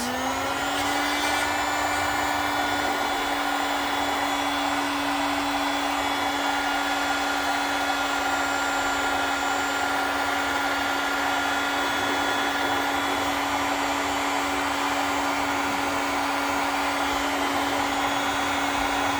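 A hot air blower heats and shapes a strawberry tower decoration, giving off a continuous, fairly loud electric whir with a steady humming tone and no pauses.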